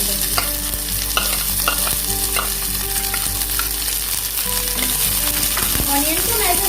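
Chopped onion and bay leaf fry in hot oil for a Bengali-style chicken curry, a loud continuous sizzle with scraping stirs and clinks of a utensil against the pan.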